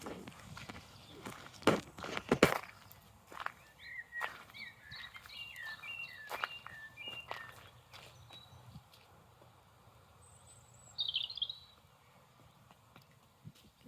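Bird calls on a farm, a series of short chirps sounding repeatedly at moderate distance, with a louder burst near the end, over outdoor ambience with footsteps and occasional thuds.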